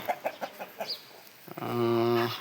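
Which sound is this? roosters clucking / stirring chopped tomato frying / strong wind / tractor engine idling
roosters clucking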